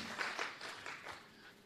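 A crowd at a business achievement event gives a round of applause, with a fairly faint, dense wash of clapping whose bursts rise and fade over a short stretch.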